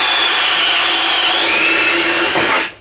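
An Irwin Speedbor Max self-feeding spade drill bit bores into wood with a power drill, a loud continuous whirring grind heard up close for a few seconds. It stops abruptly at the end.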